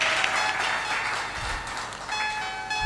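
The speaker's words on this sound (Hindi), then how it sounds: "ताली बजाकर इनका सम्मान कीजिए" An audience at a satsang gathering claps steadily, a dense, even crowd applause that continues for a few seconds with a slight swell near the end, alongside a faint ringing tone.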